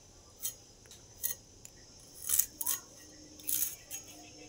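Ivy gourd (kundri) vegetables being cut by hand in a home kitchen, giving several short, crisp snips and chops spaced irregularly over a quiet background, close and moderately loud.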